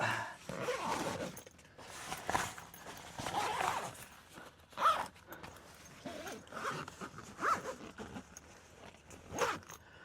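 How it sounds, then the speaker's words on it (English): A zipper on a Rugged Ridge rooftop tent is pulled closed in several short, scratchy bursts, close and fairly quiet, with soft rustling and handling noise between pulls. "zip it up"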